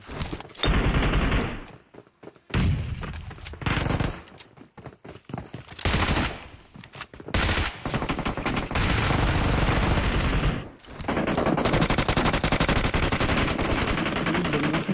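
Video game gunfire in repeated loud bursts of automatic fire, dense rattling volleys broken by short pauses and a few quiet gaps, close and dominant throughout.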